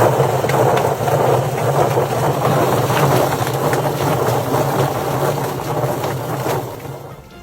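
A homemade chicken plucker churns scalded chickens to strip their feathers, giving a steady loud mechanical whir with a low motor hum and wet rustling that runs continuously before fading slightly at the end.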